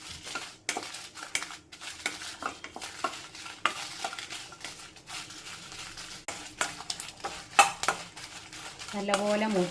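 Dried red chillies roasting in a pan over a low flame while being stirred, giving steady scraping and clinking of a spoon against metal with a soft sizzle underneath, close and fairly loud, no talking.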